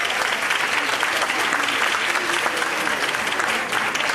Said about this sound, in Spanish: Un aplauso para ellas, por favor.